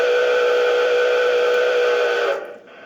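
A model cab-forward steam locomotive sounds a loud, steady, unquilled whistle controlled by a ball valve. The single sustained blast holds at one pitch, then cuts off abruptly near the end.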